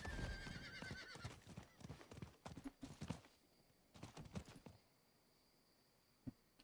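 A horse in the Diablo 4 video game whinnies at the start, followed by a run of clopping hooves that fades out, with a faint chime near the end; quiet overall.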